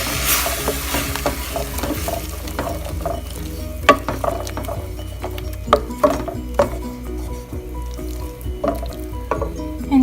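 Tomatoes frying in oil for keema karele, a sizzle in the pan broken by scattered spoon scrapes and clinks as the mix is stirred, close and steady with no talking.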